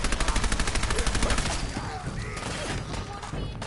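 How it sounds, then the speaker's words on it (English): Tommy gun fire in Fallout 4: a rapid, evenly pulsing burst of loud automatic shots for about a second and a half, giving way to a rougher wash of crashing impacts and scattered noise. "This Tommy gun is not good."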